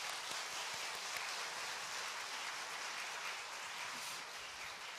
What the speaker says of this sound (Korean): 잠깐 박수해 주세요.